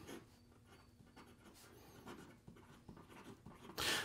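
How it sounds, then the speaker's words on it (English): Faint scratching of a Makar Torpedo fountain pen with a medium titanium nib writing on paper, a soft steady scritch with small strokes, ending in a louder brushy burst. "here we go with the writing sample for the Makar"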